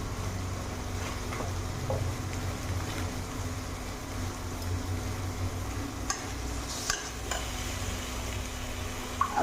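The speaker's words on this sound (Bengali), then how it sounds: "এবার মশলাটাকে ভালো করে কষিয়ে নেবো" Masala with Kashmiri red chilli powder, salt and meat masala fries and gets stirred in a pan for jackfruit kofta, making a low, steady sizzle with light scraping and a few sharper clinks.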